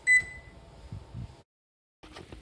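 A kitchen oven timer gives one short, high electronic beep as it is set, followed by faint handling noise, a moment of silence and a light clatter.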